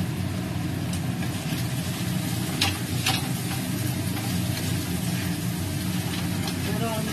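Sliced potatoes frying in oil in a pan, dusted with Kashmiri chili powder, give off a steady, dense sizzle that runs evenly throughout at a close, moderate level.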